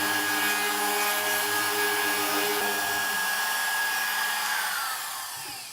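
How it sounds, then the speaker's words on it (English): A trimmer router cleaning out a hinge recess in a walnut door, a loud steady high-pitched whine running throughout before spinning down at the end. "And then I will clean it up with the trimmer."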